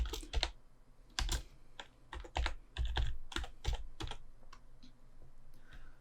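Clattering keystrokes on a computer keyboard, typed in quick irregular bursts with brief pauses, close and clear with no voices.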